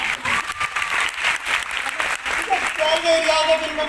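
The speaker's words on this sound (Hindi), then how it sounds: "जबरदस्त, जोरदार तालियां एक बार।" Loud applause from the audience at a Modicare network marketing event in Faridabad, sustained across the whole stretch, with a voice speaking over it toward the end.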